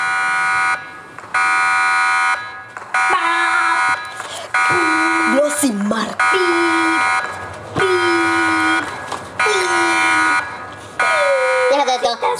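A loud electronic video game alarm blares in repeated long pulses with short gaps, while voices shout and talk over it.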